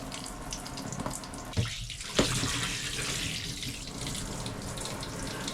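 Hot water runs continuously from a Hike Crew portable water heater shower inside a truck camper, a steady hiss with a couple of brief splashes or knocks.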